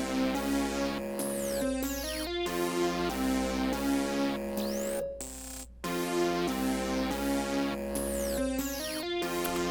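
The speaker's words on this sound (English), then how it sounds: "So this one is just like a lead like this. Pretty cool lead. It has like a little bit of glide on it." A gliding synth lead plays a looping melody over a rage beat built in FL Studio, its pitch sliding between notes above a steady low bass, loud and up front with no voices.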